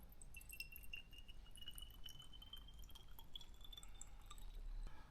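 Creed Aventus perfume poured through a small funnel into a little bottle, heard as a faint, steady liquid trickle whose pitch slowly rises as the bottle fills, over a low room hiss.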